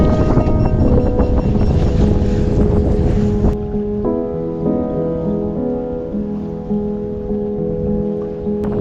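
Ocean waves breaking over a river bar beside a sailing boat, with loud, continuous wash and wind noise roaring at first, then easing into a steadier surge with tonal creaks and rigging hum.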